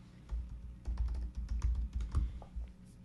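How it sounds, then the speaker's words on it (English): Keys clatter on a computer keyboard as a website address is typed, a quick uneven run of close, crisp clicks with short pauses, alone with no voices. "Just make sure you type in the website URL without HTTP, HTTPS, or www."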